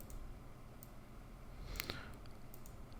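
A computer mouse clicking, a quick pair of crisp, faint clicks near the middle against a quiet hiss.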